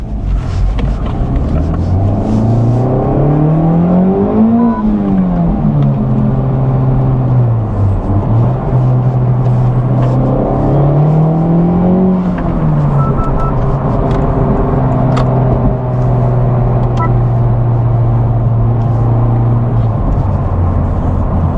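A car engine revs up loudly, drops briefly as it shifts gears, then climbs again through several crisp shifts, steady and close with no talking.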